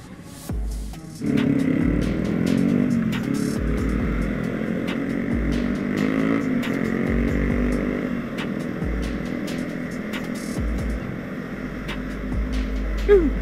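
A naked-style motorcycle rides along a rain-worn road on a Sunday morning group ride, its engine droning steadily close by. Wind rushes constantly over the rider, and the engine note rises briefly near the start and again at the end.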